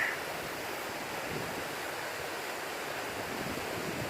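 Bridal Veil Falls waterfall, a steady broadband rush of falling water heard from a distance, constant and unbroken with no voices.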